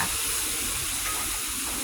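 Soaked thin rice noodles fry in a pan for pad see ew, a steady, even sizzling hiss with no pauses or voices.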